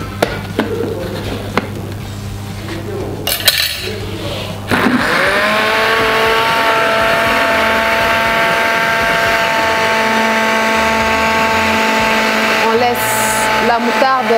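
An electric blender mixes eggs and mustard for mayonnaise, starting with a lower hum and knocking, then jumping to a loud, steady high-pitched whine that holds for about ten seconds, with brief speech around it.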